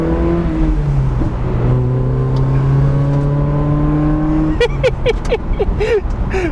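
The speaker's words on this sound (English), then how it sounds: "This car is all stock except there is an exhaust on it, as you can probably hear." A first-generation NA Mazda Miata's engine, stock apart from an aftermarket exhaust, revs up through the gears with a raspy, throaty exhaust note, rising whines repeating, then crackling pops as it lifts off near the end.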